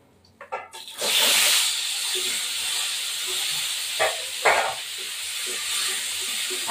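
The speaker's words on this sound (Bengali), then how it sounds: "আলুগুলো একটুখানি ভাজা ভাজা হওয়া পর্যন্ত থাকবে।" Potatoes hit hot oil in a pan for frying, bursting into a loud, close hiss that then settles into a steady sizzle, broken by a couple of brief clatters from the utensils.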